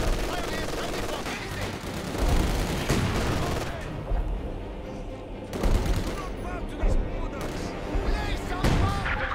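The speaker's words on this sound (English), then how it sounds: "Firing sector artillery, Commander." Sector artillery barrage in the World War II game Company of Heroes 2, Saratov Bridge map: dense rolling gunfire and booming blasts, loud and continuous, with heavier impacts around the middle and end.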